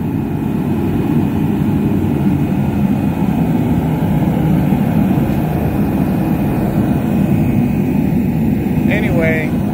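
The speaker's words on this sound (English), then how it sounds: "I think that's a regular jet engine." At a large building being readied for a concrete pour, a jet engine heater running at low RPM gives off a loud, steady, broadband roar with a low rumble, and a faint brief voice-like sound appears near the end.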